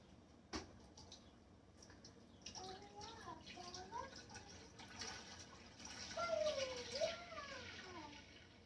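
Water splashes and pours into a cooking pot on a home kitchen stove before milk is added for making paneer, with a sharp clink near the start and a rising, gurgling pour toward the end, fairly close and moderately quiet.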